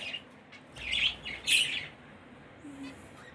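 Pet birds indoors chirp in a few quick, bright bursts close by, with quieter twittering between the calls and no talking.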